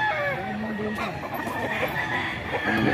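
A fighting rooster from a cockpit clucks and calls repeatedly, close by, with other fowl and background chatter around it and a steady busy ambience.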